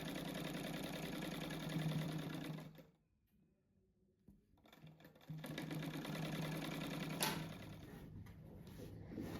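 A sewing machine stitches pieces of a pillow together, a fast steady mechanical whir close by, stopping for about two seconds of near quiet midway before running again.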